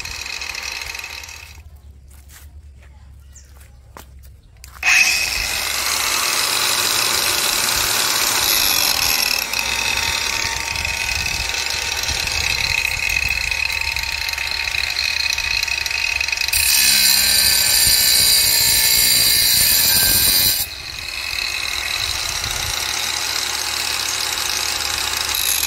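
Kamolee cordless 5-inch angle grinder switched on after a quiet start, spinning with a steady high motor whine that changes speed partway through, close and loud with no one talking.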